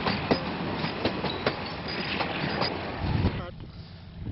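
A train moving military weapons cargo toward Nairobi rolls past with steady clickety-clack of wheels over rail joints, rumbling and rattling loudly up close, with a voice speaking over the noise.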